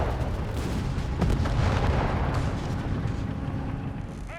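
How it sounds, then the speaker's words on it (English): Matilda tanks firing 2-pounder guns in Company of Heroes 3, heard as a dense, loud wash of battle sound with repeated cannon reports and booms layered over constant rumble. No one speaks. "Blasting German forces wherever they are with their 2-pounder guns."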